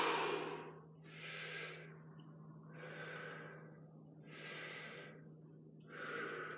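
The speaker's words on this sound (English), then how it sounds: "Two more deep breaths." Slow, deep breaths during a workout stretch, five audible inhale-exhale swells spaced about every one and a half seconds, close and fairly quiet over a steady low hum.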